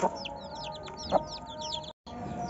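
Chickens cluck and cheep in a steady chatter with a few louder calls, nearby, over a low background murmur.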